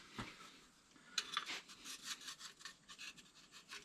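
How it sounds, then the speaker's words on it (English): A scraper works over the block of a 1977 Ford F150's 4.9L inline-six during water pump replacement, giving faint, close rasping strokes in an irregular rhythm. "I'm going to take our scraper and work at making sure there's no gaskets or anything there"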